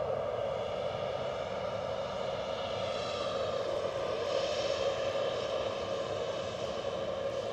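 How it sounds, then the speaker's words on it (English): A Boeing Dreamliner moving at Edinburgh Airport, a constant engine whine and rumble heard from a distance, steady with a slight swell midway and no talking. "So I think the Dreamliner might be moving now. It is moving."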